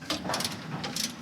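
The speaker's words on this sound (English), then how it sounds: "torque wrench" Torque wrench tightening a sway bar link on a 100 Series Land Cruiser: quick, close ratchet clicks in a short rapid run.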